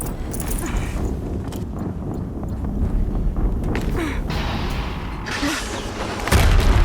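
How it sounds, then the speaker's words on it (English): Explosions in Horizon Zero Dawn, with deep rumbling booms and low blasts rolling under continuous clattering game action, followed by a heavier thud near the end, loud and dense throughout. "Another explosion."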